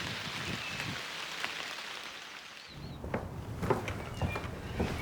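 Rain falling outside a corrugated iron house, a steady hiss of rainfall with scattered sharper drips and taps, briefly easing before picking up again with clustered drops.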